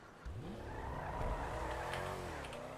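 A modified Honda Civic is driven in GTA 5 Online, its engine rising and falling through gear changes with a brief tire squeal, loud and steady throughout.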